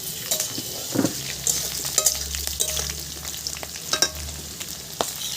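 A steady sizzle of potatoes frying in a pan until reddish, with occasional crackles and light scraping of a utensil, close and continuous.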